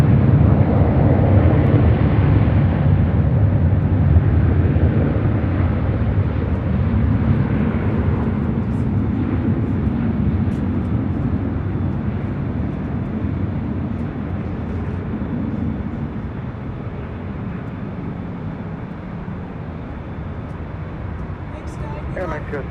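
A jet airliner rolls and climbs away from a runway at LAX, a loud, broad roar that fades gradually while radio talk plays over it.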